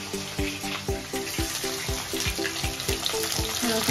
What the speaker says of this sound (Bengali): রসুনটা একটু ভাজা হয়ে যায় পেঁয়াজটা দেবো